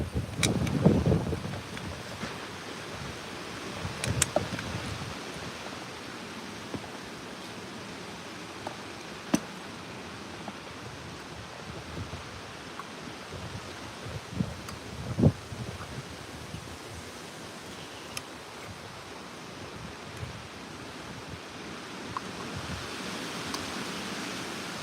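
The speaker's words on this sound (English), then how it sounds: "It'd be windy." Wind blowing outdoors, a steady broad rush that buffets the microphone, with occasional rustles and faint knocks and no voices.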